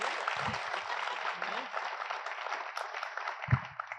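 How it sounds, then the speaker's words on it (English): An audience claps for award-winning women storytellers on stage at a film festival panel, a steady, fairly soft wash of applause with a couple of low thumps near the start and end. "A round of applause, please."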